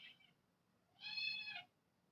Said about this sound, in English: Please ignore my kitten meowing.